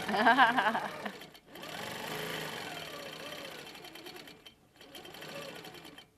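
A sewing machine runs in fast bursts while free-motion quilting feathers, with a close, steady whirring stitch that pauses briefly twice before starting again.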